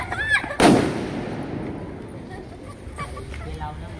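A rassi bomb firecracker set off during a Bhaubeej get-together in Mumbai bursts with one sharp, loud bang that rings out and decays over a few seconds, with people talking faintly in the background.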